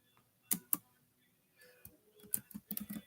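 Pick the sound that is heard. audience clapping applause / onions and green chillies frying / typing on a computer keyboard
typing on a computer keyboard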